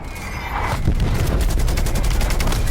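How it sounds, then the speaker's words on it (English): Incoming artillery strike in the first-person shooter Call of Duty: Black Ops Cold War, heard as a steady, loud barrage of rapid overlapping blasts and crackling fire with no voices. "Artillery targeting detected. Net call, incoming artillery."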